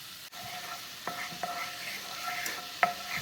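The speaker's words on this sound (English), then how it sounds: "once you've got all of the tomato paste mixed in" A spoon stirs tomato paste into a pan of creamy tomato sauce with beef broth, beside a soft background sizzle. A few faint scrapes and clinks stand out, quiet and close.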